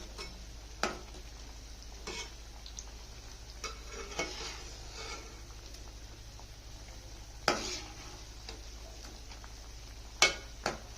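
Poha ambode frying in hot oil and being turned one at a time, a soft steady sizzle broken by a few sharp clicks and scrapes of a slotted spoon against the pan.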